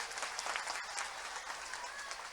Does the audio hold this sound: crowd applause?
yes